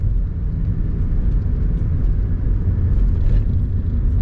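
Steady low engine and road rumble from inside a car driving along Chalmers Street in Detroit, a constant close drone with no breaks.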